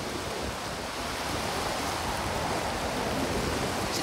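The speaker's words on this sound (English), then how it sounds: "Eventually, that rain was just coming down, so we finally wrapped it up." Rain pours steadily at Maracas Beach, Trinidad, a dense even hiss without breaks, moderately quiet and alone.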